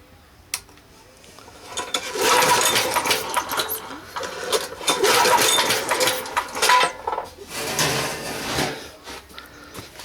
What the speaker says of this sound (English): It's a hit and miss engine.